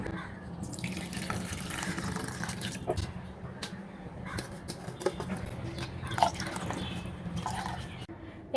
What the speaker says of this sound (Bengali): একটা ছাঁকনির সাহায্যে আমি দুধটাকে সেঁকে নেব।